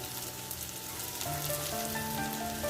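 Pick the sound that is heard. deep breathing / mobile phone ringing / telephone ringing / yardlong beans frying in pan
yardlong beans frying in pan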